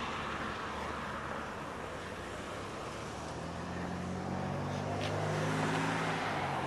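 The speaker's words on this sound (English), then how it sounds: "Wow, vintage car." A vintage car passes along a street, its engine rumble growing louder and nearer with a rising roar toward the end over steady traffic noise.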